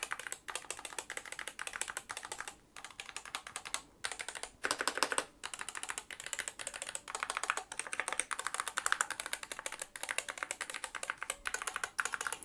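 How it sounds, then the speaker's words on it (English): Rapid clacking of a Skyloong GK75 mechanical keyboard with optical Gateron switches, typed continuously up close with brief pauses, no voices. "so you can actually hear what the keyboard sounds like. So let's take a listen to some of the keys"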